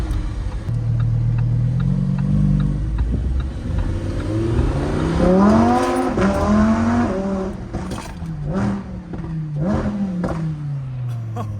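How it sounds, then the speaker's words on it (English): Lamborghini Huracan Sterrato V10 engine revving hard, pitch climbing through the gears and dropping on each shift, then settling into a lower drone, loud and close with no talking. "That's the Lamborghini sound."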